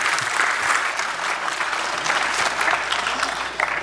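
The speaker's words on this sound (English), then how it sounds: "Let's give Doug a round of applause as he comes up this morning." An audience claps together in a hall, a dense, even wash of applause sustained for several seconds as someone walks up to the stage.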